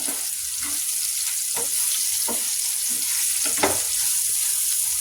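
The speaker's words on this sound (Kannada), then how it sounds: "ಈಗ ನೋಡಿ, ಇದನ್ನು ಈ ಥರ ಫ್ರೈ ಮಾಡೋಣ." Bitter gourd frying in a pan on a gas stove, a steady close hiss of hot oil with soft intermittent stirring scrapes and pops throughout.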